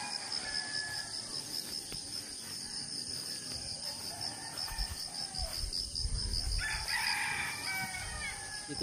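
Rural farmyard in the Bohol countryside, Philippines, where chickens peck at rice grain while a rooster crows; a constant insect buzz runs throughout, with a louder crow rising near the end.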